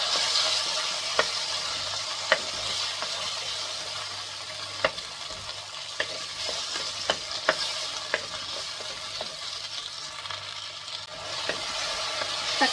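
Chopped tomatoes sautéing in a pan for thattaipayaru kulambu, a steady soft sizzle with occasional clicks of a spoon stirring, no voices.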